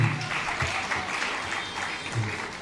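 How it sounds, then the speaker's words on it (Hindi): An audience applauds at a live religious gathering with Jain monk Sudha Sagar Ji Maharaj, a dense, steady wash of clapping that stays full throughout, with a faint voice briefly underneath. "जोरदार ताली बजाएं"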